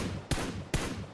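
Gunfire in a PUBG match during a championship game, two sharp shots about half a second apart, distant-sounding over a constant background of game noise.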